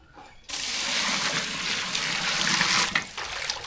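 Water poured steadily into a pot for chicken biryani, a loud continuous gushing splash starting abruptly after a brief quiet moment and running to the end, easing slightly near the close.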